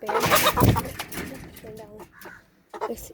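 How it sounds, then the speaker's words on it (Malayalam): A pet hen clucking near the microphone in a home setting, a few short irregular clucks mixed with a person speaking, with quieter gaps between bursts. "ഇപ്പം ഇതാണ് എൻ്റെ ഫേവറേറ്റ് കോഴി എന്ന് പറയുന്നത്"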